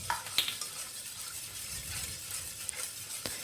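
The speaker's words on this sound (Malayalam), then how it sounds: "കട്ടയൊന്നും ഇല്ലാത്ത രീതിയിൽ നന്നായിട്ട് മിക്സ് ചെയ്തെടുക്കാം." Spoon stirring a mango and cornflour mixture in a bowl until smooth, soft scraping swishes with a few light clinks, close and quiet.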